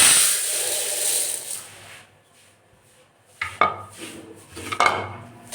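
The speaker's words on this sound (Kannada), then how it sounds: "ಇವಾಗ ಅದೇ ಬಾಣಲೆಗೆ ಹೆಸರು ಕಾಳನ್ನ ಹಾಕ್ತಾಯಿದ್ದೀನಿ." Moong beans go into a dry pan for roasting. A soft hissing rattle comes first, then the scraping clatter of stirring in the metal pan, with a few sharp knocks near the end.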